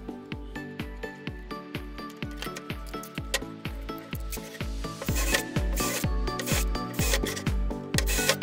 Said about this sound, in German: ich musste noch ein bisschen mit der Feile nacharbeiten, weil die Schrauben einfach ein bisschen zu lang waren